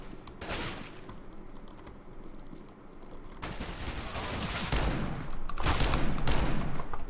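Bursts of submachine-gun fire from an MP5-type weapon in CS:GO, clustered in several rapid volleys that grow louder toward the end, with no talking over them.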